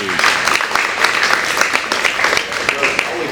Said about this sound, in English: Let's give Aisha another round of applause